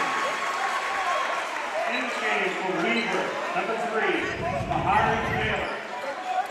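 A crowd at a high school state tournament basketball game shouts and claps in a noisy gym, with sneaker squeaks and ball bounces beneath a commentator talking throughout.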